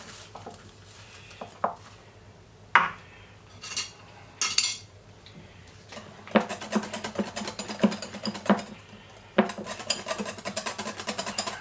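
A spoon scraping and clinking against a bowl while basil mayonnaise is mixed with freshly chopped garlic in olive oil, close-up bursts of rapid clatter after a few scattered knocks, no talk.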